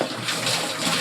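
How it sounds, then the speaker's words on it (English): Water rushes steadily into a plastic VW camper van water tank as it is rinsed and filled, a close, continuous splashing hiss with no voices. "and then just simply let it fill with water"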